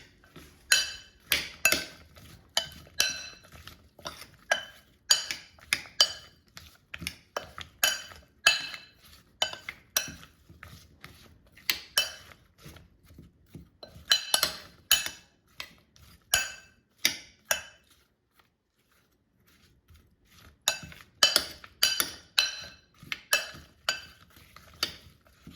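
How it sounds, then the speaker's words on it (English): Sliced potatoes tossed with oil and seasoning in a bowl, heard as repeated close clinks and scrapes against the bowl in bursts, with a brief pause before the clattering resumes. "now let's toss until the potatoes are coated with oil and seasoning"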